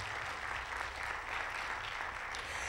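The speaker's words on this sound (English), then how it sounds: "Give him a round of applause." Audience applause welcoming a panelist onto the stage at a community conversation event: a steady, even wash of clapping that holds for the whole stretch without breaks.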